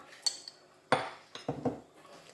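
A spoon clinks and scrapes in a bowl while black pepper and smoked paprika seasoning are mixed, giving a few sharp metallic taps and short scrapes close by with no talking.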